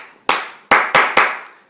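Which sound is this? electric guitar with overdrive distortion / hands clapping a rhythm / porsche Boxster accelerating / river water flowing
hands clapping a rhythm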